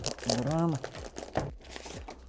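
Close, crackly crinkling of a plastic packaging bag from a Xiaomi AX6000 Wi-Fi 6 router, handled in quick rustling bursts while someone talks.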